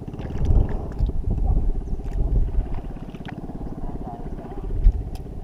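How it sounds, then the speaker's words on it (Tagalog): A motor boat on a river chugs with a fast, steady low knocking, and a few brief clatters of the wooden boat and splashes rise above it. "Ang kalantog ng bangka ni Tata Alex."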